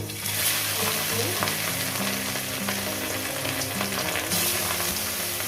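Catla fish masala fries in hot oil, a dense, steady sizzle and crackle close by, with stirring mixed in and a low droning hum beneath throughout.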